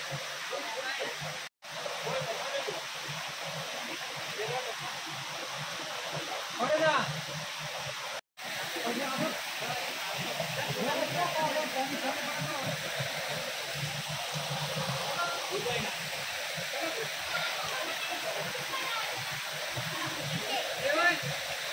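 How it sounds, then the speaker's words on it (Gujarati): Small waterfalls flow in Jesor wildlife sanctuary in Banaskantha, making a steady, even rushing wash of water that holds unbroken for the whole stretch apart from two brief dropouts. "જોઈ શકો આવા નાના નાના ધોધ પણ"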